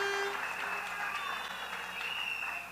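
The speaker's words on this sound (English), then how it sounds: "could you also give her a round of applause?" Faint round of applause at a UNC political party meeting, honouring the deputy political leader on the platform; a soft, steady patter of clapping runs throughout at low level.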